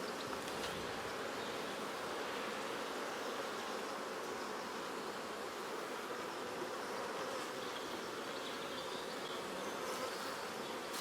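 Honeybees buzz continuously around an open hive during an early-season inspection, a dense steady drone of many insects close by, with no talking.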